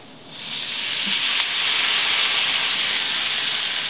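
Broth is poured into a hot pan of frying lime leaves and galangal for chicken lemper, setting off a sudden loud sizzling hiss that rises and holds steady to the end.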